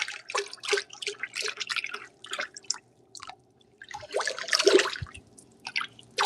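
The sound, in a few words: mixing blue celadon glaze with added water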